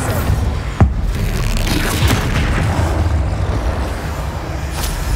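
Spell explosions fire off in the Hogwarts Legacy video game, one sharp boom punching out near the start over a steady, dense roar of magical combat effects that fills the whole stretch.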